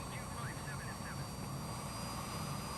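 A plane in a flight simulator game flies low on a recon flight over Canberra, Australia, its engine drone steady and fairly quiet throughout, with a few faint chirps on top.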